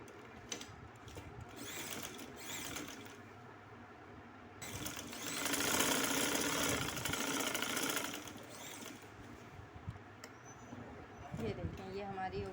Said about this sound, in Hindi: इस फ्रिल के नीचे से भी हमने एक एक सिलाई लगानी है